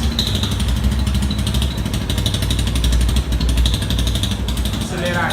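2018 Yamaha Fazer 250 motorcycle fitted with an exhaust popper, revving loudly up close with a rapid pulsing engine note and crackling pops, while someone talks over it.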